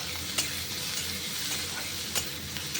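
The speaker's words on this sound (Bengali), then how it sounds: "তো দেখো এই পেঁয়াজ ভালো করে ভেজে নিচ্ছি।" Sliced onion and curry leaves fry in a pan for a South Indian dish, a steady close sizzle with light stirring clicks and no talk.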